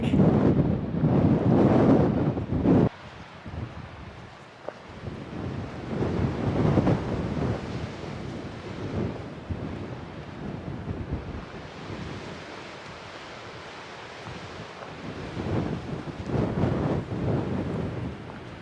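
Strong desert wind on the Arizona Trail roars and buffets the microphone in surging gusts, a loud rushing rumble rising and falling throughout.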